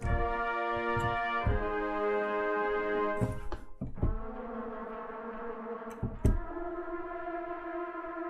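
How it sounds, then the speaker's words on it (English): Orchestral brass playing sustained chords that shift pitch, with quick trilled figures and short detached accents, heard with roomy reverberation. "those are the trills, some staccatissimo."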